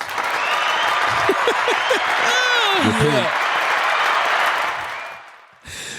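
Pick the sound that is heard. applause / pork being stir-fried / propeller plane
applause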